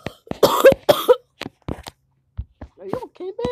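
A few harsh, raspy coughs close up, followed by brief speech and some quieter vocal sounds.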